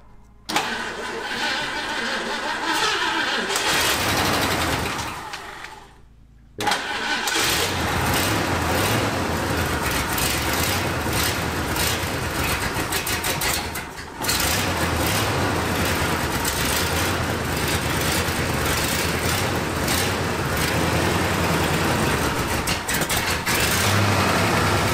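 A 1974 Ford F-250 Highboy engine cranks, catches and runs, a loud close rough roar that briefly dies out before restarting and continuing to run hard under throttle.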